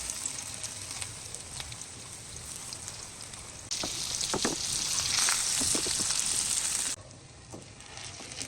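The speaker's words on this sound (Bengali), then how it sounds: "এখন আমি চিকেনগুলোকে 8 থেকে 10 মিনিট ভেজে নেব উল্টে পাল্টে" Chicken chaap pieces fry in hot oil in a pan, giving a steady crackling sizzle that swells louder for a few seconds midway and then settles back, with no voices.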